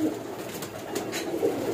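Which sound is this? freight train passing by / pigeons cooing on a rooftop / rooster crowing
pigeons cooing on a rooftop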